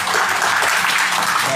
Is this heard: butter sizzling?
no